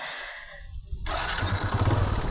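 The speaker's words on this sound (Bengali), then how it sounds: "দেন দেখি একটু বাইকটি স্টার্ট করে" A Hero Passion 110cc carburetor motorcycle cranks briefly, then catches and settles into a steady close-up idle, loud and alone without talk.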